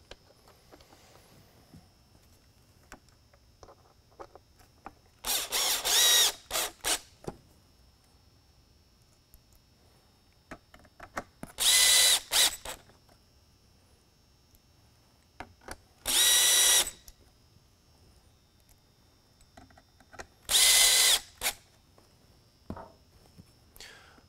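A power drill drives mounting screws into a Code 3 Frontier Mini Bar light, in four loud, close bursts of a few seconds each, separated by quiet handling noises.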